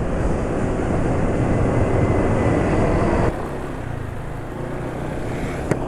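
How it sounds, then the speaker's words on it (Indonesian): A motorcycle engine, running on Win Power 10W40 oil, runs steadily at close range with a dense, even rumble, dropping slightly in level partway through and then continuing without a break. "Suara mesin termasuk tidak begitu kasar ya."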